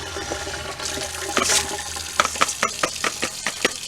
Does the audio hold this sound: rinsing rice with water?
yes